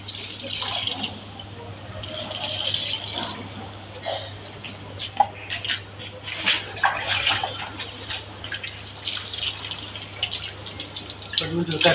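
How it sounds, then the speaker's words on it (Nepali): Water poured onto a potted plant, splashing and trickling in uneven bursts with short pauses, close by, under a low steady hum. "आज प्लान्टमा पानी हालिरहेको छ।"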